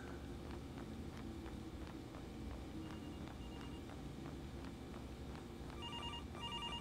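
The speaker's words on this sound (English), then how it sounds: "there goes that creepy phone call" A creepy phone rings in the horror game Graveyard Shift, set in a city morgue, a repeating chime with regular bursts sounding over a steady ambient hum, growing a bit clearer toward the end.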